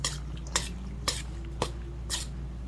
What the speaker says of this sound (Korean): 반죽을 해볼게요